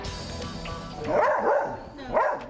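Dogs barking at an animal rescue shelter, a few loud nearby barks and yips in quick succession with kennel echo.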